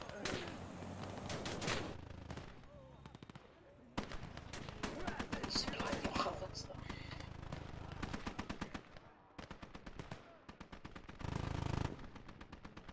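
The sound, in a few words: cannon and gunfire in a war video game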